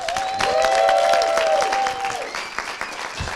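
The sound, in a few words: audience applause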